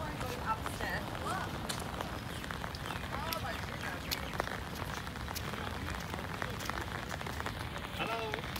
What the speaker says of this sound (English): This would be lovely if it wasn't raining